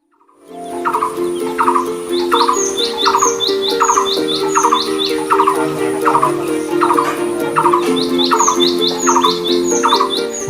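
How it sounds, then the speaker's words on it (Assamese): Birds of various species call by the Dudhnoi river, repeated sweeping chirps and whistles in a steady rhythmic pattern over a sustained musical backdrop, fairly loud and clear with no talking. "ইফালে দুধনৈত মুক্ত মনে বিচৰণ কৰিছে বিভিন্ন প্ৰজাতিৰ চৰাই"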